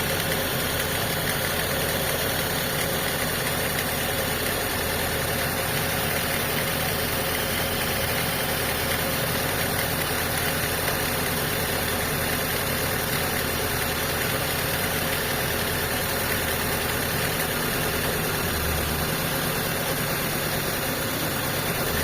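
Mitsubishi Lancer with a 4G13 engine idling steadily after carburetor cleaning and tuning, a continuous close, even mechanical hum with a faint knock, with no voices throughout.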